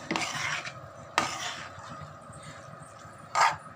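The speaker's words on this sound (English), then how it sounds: "So I'm mixing all the ingredients together." A spoon scrapes and stirs poha through puliyogare mix in a pan, in three rough bursts of scraping strokes separated by quieter pauses, close by and with no talking.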